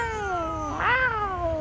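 A single drawn-out cat meow, rising then falling in pitch, close by over steady background noise, in Istanbul among many cats.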